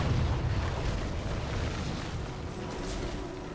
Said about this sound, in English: The red team is about to get bombarded on their forts.